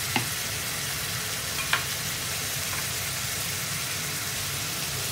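Minced beef and bamboo shoots stir-fried in a pan give a steady, close sizzle and hiss throughout, with a couple of faint scraping knocks from stirring.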